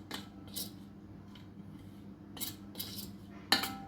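A spoon stirs mint chutney into a mixture in a bowl, producing several scraping, clinking bursts of metal against the dish, close by and fairly quiet, with gaps between strokes.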